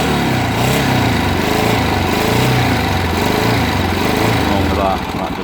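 A Yamaha MT350 motorcycle engine idling steadily close by, a loud even putter with a regular pulsing beat that holds for several seconds before easing slightly at the end.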